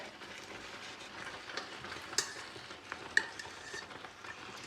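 A utensil stirring pasta through Alfredo sauce in a pan during a cooking competition, with soft scraping, faint sizzling and a few sharp clinks against the pan, no talking.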